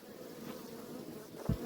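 Honeybees buzzing close by at a hive during an inspection, in a steady, continuous drone, with a brief low thump near the end.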